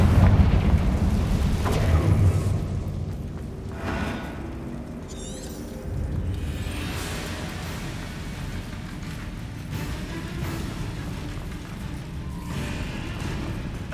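A Confringo spell blasts against a barrier in Hogwarts Legacy, with heavy booming rumbles opening the stretch and continuing as a dense, roaring wash of crackling debris and lingering low rumble, loud and close throughout.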